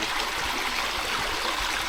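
Clear stream water flows steadily and close by, a continuous broad rushing hiss with soft gurgles and no break or voices.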